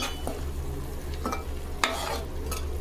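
Masala for a chicken curry fries in a pan as a constant close hiss, with a few scraping spoon strokes stirring it through.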